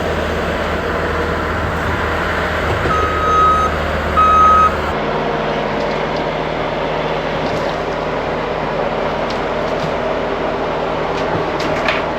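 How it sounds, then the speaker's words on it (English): A skid steer loader's reversing alarm sounds twice in brief beeps over the steady, loud rumble of diesel engines while a truck is being loaded, the heavy machinery noise continuing throughout. "I gotta go get a skid steer so I can load the truck"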